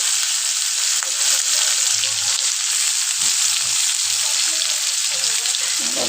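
Onions, green chilies and tomato frying together in hot oil for an egg and potato curry, a loud, dense, continuous sizzle heard up close with a few faint low knocks underneath and no voices.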